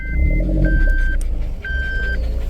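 A Force Traveler van's engine rumbles at close range in a low, steady exhaust note, overlaid with three evenly spaced electronic beeps.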